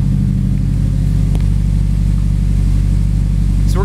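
A turbocharged Honda S2000 engine, misfiring on only three cylinders, runs loud and steady up close, a continuous low throbbing drone with a brief high chirp near the end.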